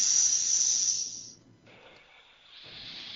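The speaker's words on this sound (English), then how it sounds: "Sounds like steam escaping." Loud, steady hissing like steam escaping a valve, cutting out briefly, then returning more softly, with no talking.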